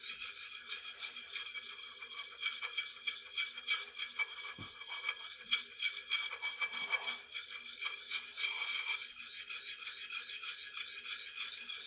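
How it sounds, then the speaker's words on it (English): A white oak-handled blade is drawn across a hard black Arkansas sharpening stone in a steady, continuous gritty scrape, close and fairly loud, with no talking. "use the surgical black or the hard black Arkansas stone on this side"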